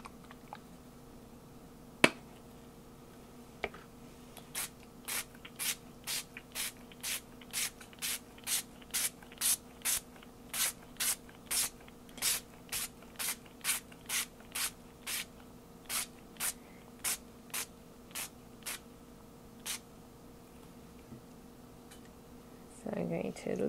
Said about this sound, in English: So first we'll do the spraying and then I'll bring in for the stamping.